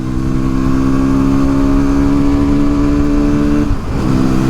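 A vehicle passes during an overtake on an open road, a steady loud engine drone with strong harmonic bands that swells and dips briefly near the end as the pass completes.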